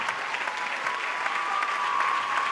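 A Cannes film festival audience applauds a director-actress and her producer after a screening, steady dense clapping filling the hall at a moderate level, with a faint sustained tone running underneath.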